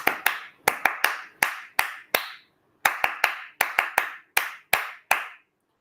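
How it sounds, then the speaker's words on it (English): A single person claps by hand about seventeen times in quick, uneven bursts, with short pauses between groups. The sharp, close claps ring out alone in a quiet room. "Yes, I clapped."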